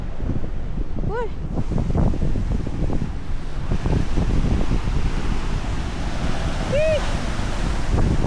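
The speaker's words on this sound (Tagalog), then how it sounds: "Ang lakas ng alon!" Strong ocean waves crash and roar continuously at Bolinao, Pangasinan, with heavy wind buffeting the microphone; a short shout and a whistle-like call rise briefly above the surf.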